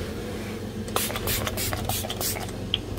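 Repeated short spray bursts from a cleaner bottle misting a sofa indoors, several quick hissing squirts in close succession over a low steady background hum.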